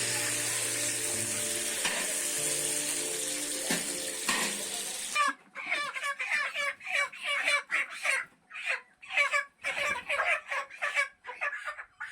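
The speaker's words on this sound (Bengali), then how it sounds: "চলো এখন পটলটা ভাজবো" Pointed gourd (potol) goes into a pan of hot oil for frying, giving a loud, hissing sizzle that breaks into bursts of crackling and spattering as the pieces cook.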